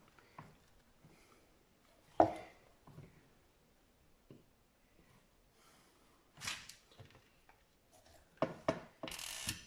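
A hot glue gun's trigger mechanism clicks and ratchets in short, quiet bursts with pauses between, ending in a quick cluster of louder mechanical clicks.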